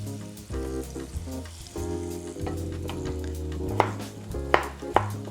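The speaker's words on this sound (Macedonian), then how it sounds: "Го ставам да се пропржи иста така." Chopped vegetables sizzle steadily in a simple frying pan, a close, continuous frying hiss with a few sharp clinks and stirring knocks near the end.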